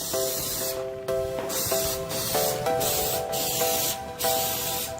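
Spray paint hisses out of an aerosol can laying a thick coat on a flat object, close and loud in repeated long bursts separated by brief pauses.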